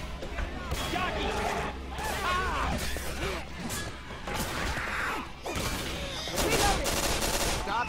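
Rapid bursts of gunfire from Left 4 Dead 2 on PC crackle almost nonstop, mixed with crashes and clattering game effects, while players talk over the action.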